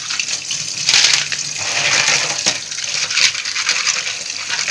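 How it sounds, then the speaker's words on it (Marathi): Water sloshes and splashes steadily as clams are rinsed by hand, with occasional clinking as the small hard shells knock together. "पुन्हा दुसऱ्यांदा मी या पाण्याने धुवून घेतो"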